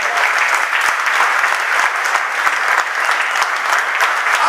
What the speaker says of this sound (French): Applaudissez Jésus.